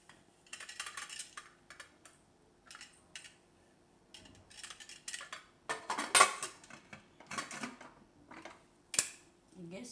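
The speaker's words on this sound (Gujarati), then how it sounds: "કુકરનું ઢાંકણું બંધ કરી દે." A metal pressure cooker lid is handled and shut in a home kitchen while cooking potato and cashew curry, with a series of sharp clinks and clacks, one louder metallic knock, spaced between quiet gaps and faint talk.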